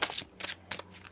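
A Cigano tarot deck is shuffled in three quick, crisp bursts of riffling cards, close and clear, with brief pauses between them.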